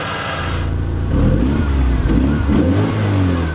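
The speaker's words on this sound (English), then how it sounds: "Let's turn the key, turn on the 2-liter twin-spark engine." Alfa Romeo 916 Spider from 1996 with a 2-liter twin-spark engine cranks and fires up, a low idle swelling into a loud rev around a second in, then settling into a steady, close rumbling idle with small blips.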